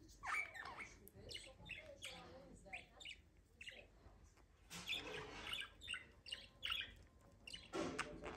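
Rapid, scratchy squawks and chattering chirps from a budgerigar, near and busy, with a person talking intermittently underneath.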